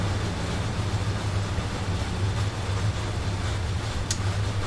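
A Rhaetian-style train on the Chur to Arosa line in Train Sim World 2 hums with a steady low engine drone and constant rolling noise, close and continuous, with a faint click near the end.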